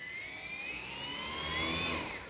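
Electric motor of a HobbyZone Carbon Cub S 2 1.3 m RC plane whining up as throttle is applied, a thin high whirr climbing in pitch and swelling slightly louder, close by.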